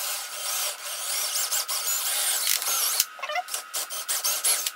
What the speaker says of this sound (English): use the multi-tool to join all of those holes afterwards